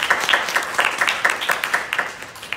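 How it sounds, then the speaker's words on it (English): A brief round of applause for medical staff, with a small group clapping in a quick, fairly close patter that thins out toward the end. "please kindly give our medical staff their work a round of applause"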